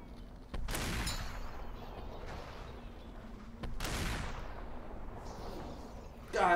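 Two heavy, booming shotgun blasts from a virtual reality shooter, SuperHOT VR, roughly three seconds apart, each decaying into a broad rumble, with a sharper burst right at the end.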